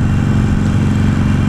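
A Harley-Davidson motorcycle engine idles close by with a steady, low, throbbing rumble that holds even throughout.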